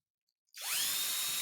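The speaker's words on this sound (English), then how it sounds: "how you can drill a hole into a scrap piece of wood" After a brief quiet, a power drill spins up sharply and runs at a steady high-pitched whine, boring a hole close by into a scrap piece of wood.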